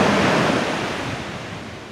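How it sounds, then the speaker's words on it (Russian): Atlantic surf breaks on the shore at Albufeira, Portugal, a loud roar of crashing water that slowly fades as the wave washes out, with wind buffeting the microphone. "Видишь, волна как идет, да, глубоко там сразу."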